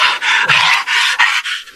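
A man imitates a dog, pushing out six or seven rough, breathy bursts in a steady rhythm, close and loud, more like rasping pants than clean barks.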